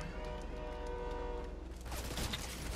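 A train in the video game Fortnite sounds a faint horn and rolls past with a soft rail rumble, the sound low in level and without voices over it.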